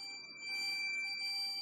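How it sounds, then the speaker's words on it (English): Rain detector alarm buzzer sounding a steady, continuous electronic tone with several sustained pitches, faint and unbroken for the whole stretch. "it has successfully said heavy rain and buzzed the buzzer"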